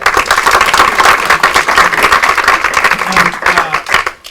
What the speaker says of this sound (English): let's give our public works team a round of applause